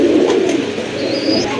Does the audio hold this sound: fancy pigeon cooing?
yes